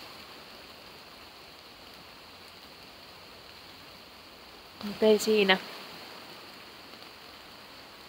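Rain falls steadily in a forest as a soft, even wash of hiss, and a person speaks briefly partway through.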